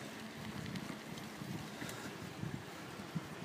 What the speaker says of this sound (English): Bit of a breeze.